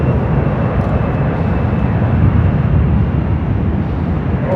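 A Delta airliner taxiing at Los Angeles International Airport, a continuous loud jet engine rumble with a low broadband roar and steady hiss, unbroken and fairly near.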